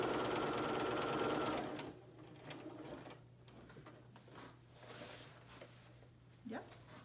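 Sewing machine stitching cloth napkin fabric, a fast buzzing run of stitches for about two seconds before stopping, followed by quieter handling of the fabric with a voice speaking.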